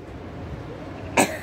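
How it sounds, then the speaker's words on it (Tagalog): A single short cough comes at the end of a quiet moment, sharp and close, following faint room background. "inuubo na ako dahil"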